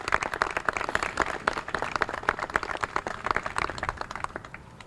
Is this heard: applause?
yes